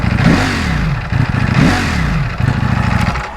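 Ducati Panigale V4S motorcycle engine with Akrapovic exhaust, revved to 4000 RPM, giving loud, close rising and falling revs over a rough, throbbing idle.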